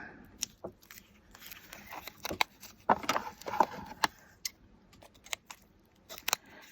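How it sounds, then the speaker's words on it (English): Close, crisp snipping of titanium scissors through foam, a run of irregular cuts with small rustles and handling noises between them. "the scissors I'm using, these are titanium"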